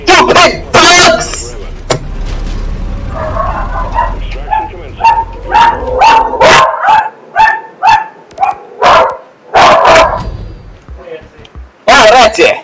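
Creatures bark and yip in rapid bursts in the video game Deep Rock Galactic, loud and close, mixed with game noise and a rumbling engine-like drone, with a voice speaking among them.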